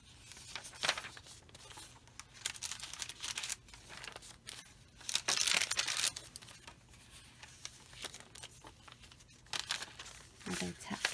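Wrapping paper tucked into a nature-themed junk journal is handled and crinkled up close, giving bursts of rustling and crackling between quieter pauses.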